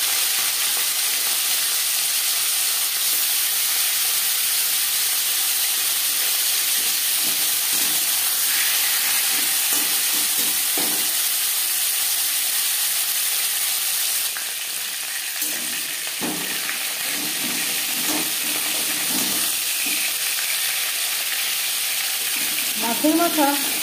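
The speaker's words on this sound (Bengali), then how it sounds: "4 চামচ রিফাইন্ড অয়েল গরম করে নেওয়ার পরে দিয়ে দিলাম মাছের মাথা।" Fish head frying in four spoons of hot refined oil for a Bengali aar fish curry, a steady close sizzle and crackle running throughout with occasional stirring clinks and a faint voice near the end.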